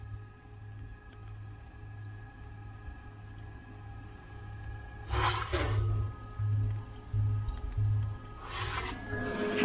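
Gasifier blowers on a gasified Chevrolet Silverado drone with a steady low hum and a faint pulsing rhythm, joined by two louder rushing bursts of roaring air partway through and near the end.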